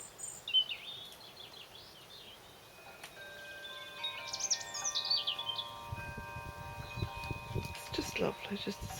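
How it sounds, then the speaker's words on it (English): Birds sing near a veranda by roses and wisteria: a few faint, high chirps and trills scattered over a soft outdoor hush, with some low rustling toward the end. "It's just lovely just to sit here and listen to the birds."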